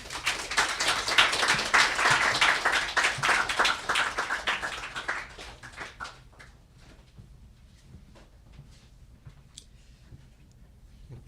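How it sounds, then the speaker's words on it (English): An audience at a student reading applauds the student readers, a dense burst of clapping that swells for several seconds, then thins to a few scattered claps and quiet shuffling. "Another round of applause for our student readers."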